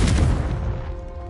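In the Hogwarts Legacy video game, a Confringo spell goes off as a loud, close, booming explosion. Its dense burst fades away over about a second.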